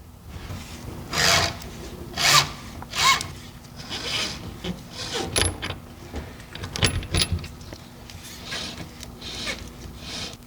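Grease being worked by hand onto 12-foot mechanical counter cables for Veeder-Root counters, heard as a series of soft rubbing and rasping strokes with light metallic clinks, close and fairly quiet, with no talking.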